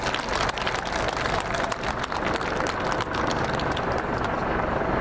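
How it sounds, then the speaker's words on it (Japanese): Dense, steady applause from a large outdoor audience at a military air base open day, greeting a guard dog training demonstration, sustained loud and close for the whole stretch with no talk over it. "拍手お願いします。"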